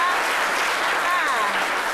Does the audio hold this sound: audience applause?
yes